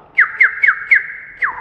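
A mimicry artist imitates a bird by whistling a quick run of five bright, falling chirps over a sustained whistled tone. The sound is close, loud and clean.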